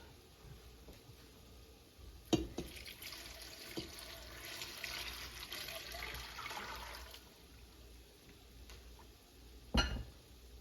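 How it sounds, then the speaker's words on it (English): Tap water runs and splashes into a cooking pot as ten cups are added for borscht, a steady rushing flow over several seconds with a couple of sharp clunks from handling the pot. "Now, next, I'm going to add 10 cups of water."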